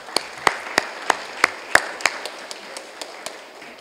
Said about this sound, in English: Commissioner Carter, give her a hand clap